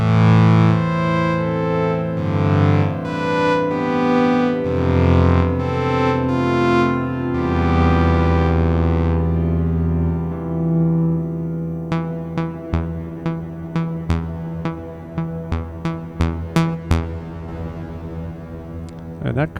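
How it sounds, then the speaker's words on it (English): A Behringer DeepMind 12 synthesizer plays sustained chords through the TC Deep Verb reverb effect, the long notes washing together, then a run of short plucked notes whose tails ring out and decay into the reverb. "So it's a pretty simple reverb."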